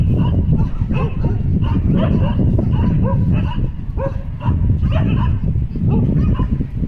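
Several dogs bark together in a sunny outdoor spot, loud repeated yips and bow-wows overlapping in irregular bursts throughout, close by and continuous.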